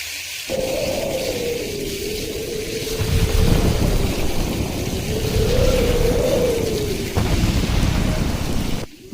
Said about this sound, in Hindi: तेज हवा चली और फिर झमाझम बारिश शुरू हो गई